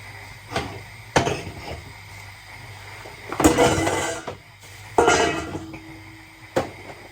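A pot of assorted meat stew is shifted onto a gas cooker at the back of the stove, giving several separate metallic clunks and scrapes of pot against burner grate, close and intermittent, over a low steady hum.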